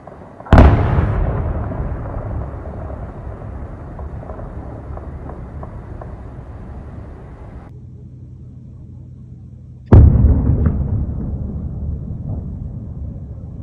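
A sharp blast sets off a stretch of scattered, crackling small arms fire, then silence before a second loud explosion rings out and fades.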